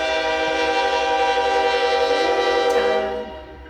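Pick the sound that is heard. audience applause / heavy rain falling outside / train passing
train passing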